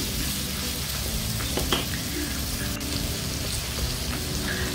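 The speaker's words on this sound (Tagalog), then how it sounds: "Isunod naman natin ang ating sliced pork. Halu-haluin." Sliced pork and chicken liver sizzle steadily in a hot pan for pancit bato, with continuous frying crackle and faint stirring scrapes, close and fairly loud with no talking.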